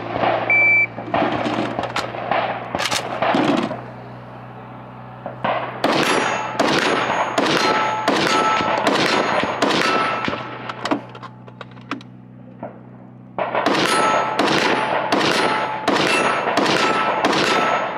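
Rapid strings of AK74 rifle shots at an outdoor carbine match, loud and close, firing in three bursts separated by brief pauses, with a steady low hum underneath.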